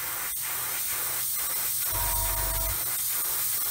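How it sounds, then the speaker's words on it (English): Airbrush spraying MRP primer paint on a 1/35 Meng BUK missile model kit, a steady airy hiss held close for several seconds with a slight pulsing rise partway through. "It's spraying absolutely beautifully, I must admit."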